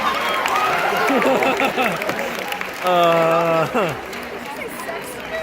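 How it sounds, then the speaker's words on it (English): Audience applause at a hypnotist stage show for a hypnotized volunteer named Sextina, a steady round of clapping with voices calling out over it and a sustained sung or shouted tone midway. "let's give Sextina a big round of applause"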